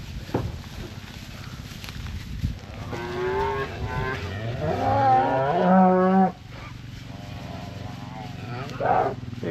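Cows in a farm shed low repeatedly in a loud, drawn-out series of moos, the calls overlapping and building before cutting off abruptly, with quieter shuffling and a later single bellow.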